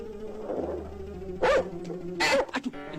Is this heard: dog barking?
yes